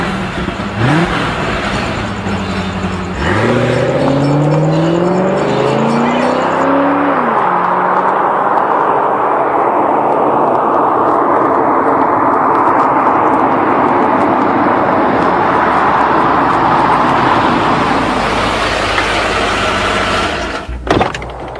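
A car pulling away near the Stratosphere Tower in Nevada, its engine revving up through several gear changes, then settling into a loud, steady road and wind roar that lasts until the end.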